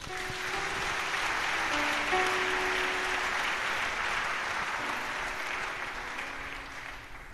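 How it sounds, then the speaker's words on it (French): A church congregation applauds in sustained, dense clapping that fills the room, holding steady for several seconds before gradually easing, with faint tones and voices underneath. "Acclamons Jésus."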